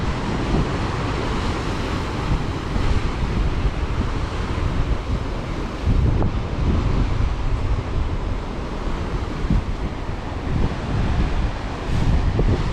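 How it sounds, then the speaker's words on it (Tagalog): Strong ocean waves surge onto the shore at Cape D'Aguilar under heavy, steady wind buffeting the microphone, a dense continuous roar with no talk. "grabe no lakas na ng alon doon oh"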